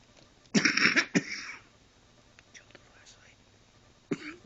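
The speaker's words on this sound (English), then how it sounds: "What a time to go into a coughing fit." A few harsh coughs burst out close by, then fade into quiet with faint murmurs, and one more short cough comes at the end.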